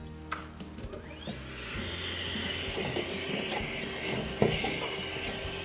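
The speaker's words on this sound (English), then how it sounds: "we're going to suck up all the obvious dirt and debris with just our standard vacuum" A standard vacuum runs steadily, sucking dirt and debris out of heating and cooling ducts with a continuous whine and rattling grit, plus a sharp knock partway through.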